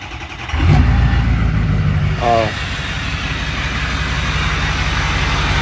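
A 6.0 truck diesel engine with an open downpipe fires up and roars, then settles into a loud, steady, rumbling idle close by.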